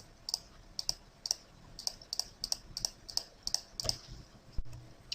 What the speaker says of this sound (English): Hold the Control key down on the keyboard